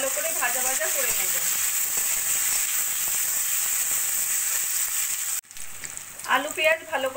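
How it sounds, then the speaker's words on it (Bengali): Sliced onions and small-diced potato fry in hot oil in a pan, a steady close sizzle that hisses on unbroken, then drops briefly before resuming with stirring; a voice speaks over the frying at the start and end. "এবার পেঁয়াজ আলুটা একটু ভালো করে ভাজা ভাজা করে নেব"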